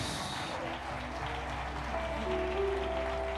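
Church congregation applauding during a celebration worship service, a steady wash of clapping from a large crowd indoors that holds at even loudness throughout, with faint tones ringing underneath.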